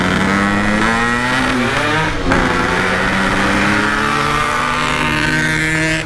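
An old Yamaha RX King motorcycle engine revs hard and close, holding a loud, steady high-pitched buzzing drone with a brief throttle blip partway through.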